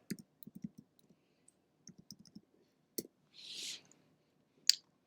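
Quiet, sparse clicks of a computer keyboard as a file name is typed, a few quick bursts of keystrokes with short pauses, plus a brief faint rustle and a sharper click near the end.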